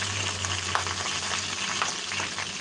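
Steak or potatoes fry in a pan with a continuous crackling sizzle, close up, with small pops and spatters over a low steady hum.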